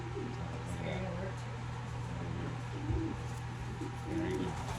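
A banded pet pigeon coos in low, soft repeated phrases, steady and close, while a person talks over it and a faint background hum runs throughout.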